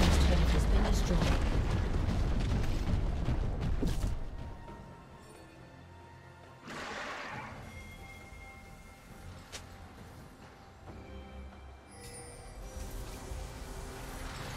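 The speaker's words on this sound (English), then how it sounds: "Red team's turret has been destroyed." In League of Legends, a turret is destroyed with a heavy, rumbling blast that fades out after several seconds, followed by scattered game effects and an announcer voice.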